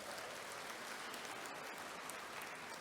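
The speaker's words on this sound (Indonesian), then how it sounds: "Tepuk tangan buat para wanita" A university graduation audience claps, a faint, even patter of many hands heard from a distance and sustained throughout without a break.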